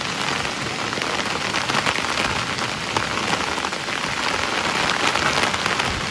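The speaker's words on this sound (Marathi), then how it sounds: "तर मित्रांनो बघू शकता पाऊस आलेला आहे." Heavy rain pours steadily on a surface in the mountains, a dense continuous roar of drops that stays loud throughout.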